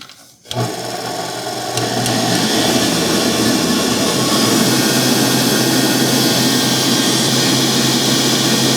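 Globe SP05 commercial stand mixer motor starting up and running steadily while whipping heavy cream, a loud continuous whirring drone with a rising whine that settles into an even hum.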